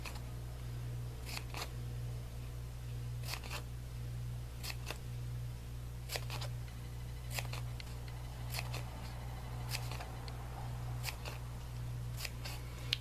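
Scissors cutting foam all around to shape small baskets, regular pairs of crisp snips repeating roughly every second over a constant low electrical hum.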